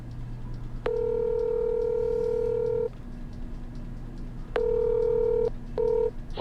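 A telephone dials out with steady touch-tone beeps: one long tone, a pause, then a long tone and a short one, close and clear over low background noise.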